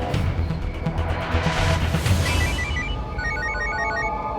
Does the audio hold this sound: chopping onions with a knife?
no